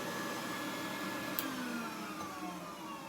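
A shop vacuum running beneath a workbench, drawing in grinder dust from under a horizontal grinder used on carbon fiber, G10 and wood, gives a steady, moderately loud droning whoosh with no talk.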